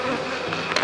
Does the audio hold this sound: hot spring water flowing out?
no